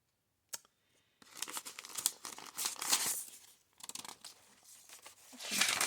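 Sheets of purple paper in a junk journal are handled and flipped, giving several crisp crinkles and rustles of varying loudness, close by and without talk, separated by short pauses.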